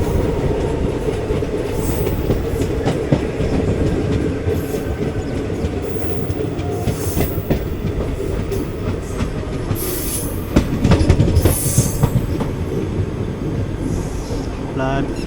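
A Nadikudi–Macherla passenger train rolls into Nadikudi station, with a steady loud rumble of wheels on rail, rhythmic clicking over joints and occasional squeals, heard close from on board throughout.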